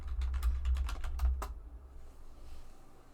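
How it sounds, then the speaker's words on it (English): Quick bursts of typing on a computer keyboard, a rapid cluster of sharp, close key clicks for about a second and a half, then quiet room tone with no voices. "You're gonna hear my keyboard."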